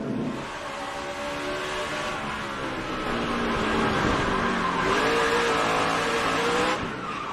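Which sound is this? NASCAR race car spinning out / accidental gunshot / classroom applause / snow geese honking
NASCAR race car spinning out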